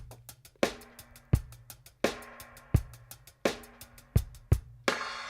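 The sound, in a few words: dub drums with reverb automated on the snare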